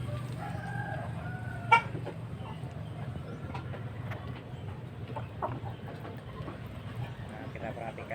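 Free-range village chickens in a rural yard, with clucking and a rooster crowing over a steady low background hum, fairly distant, and faint voices in the background.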